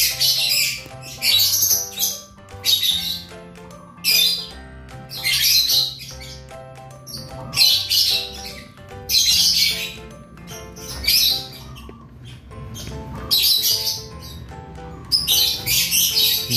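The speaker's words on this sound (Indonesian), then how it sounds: "ini loh ya, perkembangan anakan lovebird umur 27 hari" Lovebird chicks 27 days old in a wooden nest box give loud, close bursts of raspy squawking and chirping, repeating roughly every second or two over steady tonal sounds in the background.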